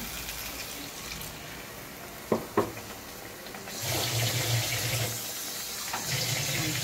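Kitchen tap running water while cooking stuffed pointed gourd, a soft steady splashing flow that starts after a couple of sharp knocks and grows fuller, close by.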